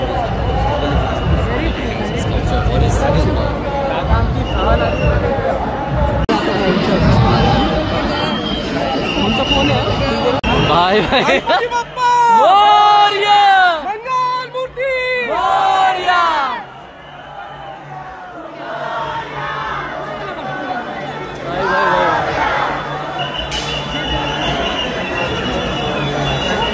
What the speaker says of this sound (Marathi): भयंकर इतकी गर्दी की काय सांगावं.